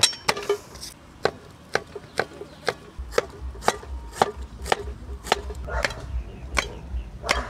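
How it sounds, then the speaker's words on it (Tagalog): A knife chops garlic and onions on a board at a campsite, with steady, evenly spaced thuds ringing out clearly over a low background rumble. "Pagkatapos hiwain natin yung mga bawang sibuyas."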